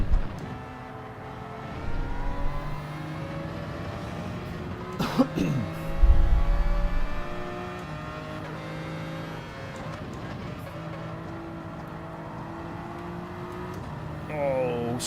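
A Mazda RX Vision race car in Gran Turismo 7 gives a steady, high-pitched engine buzz. The pitch glides up and down with the gears under a constant drone, and a short thump sounds partway through.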